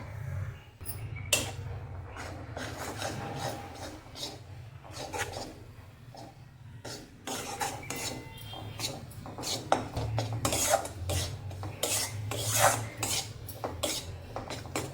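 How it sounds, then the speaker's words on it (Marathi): Gram flour roasting in ghee in a wok over low heat, stirred steadily with a utensil: repeated scraping and clinking strokes against the metal pan, growing busier and louder toward the end, with a low hum underneath and no talking. "मंद आचेवरच आपण बेसनचं पीठ भाजून घ्यायचं"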